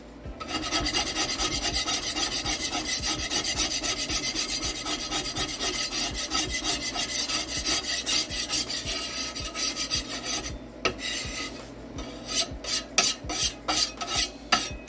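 Glue stick residue being scraped off a 3D printer bed in close, continuous rasping strokes, ending in a series of short, separate scrapes, with no talking.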